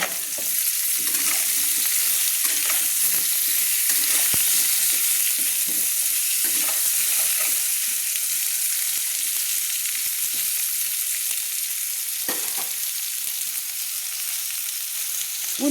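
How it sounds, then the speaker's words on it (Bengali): Potatoes and kohlrabi frying in oil in a pan for a Bengali fish curry, a steady close sizzle with occasional stirring scrapes throughout, no voices. "দিয়ে আমি আলুগুলো একটু ভেজে নেব"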